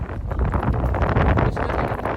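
Wind buffets the microphone while fishing outdoors, a low, constant rumble and rushing noise, no voices heard.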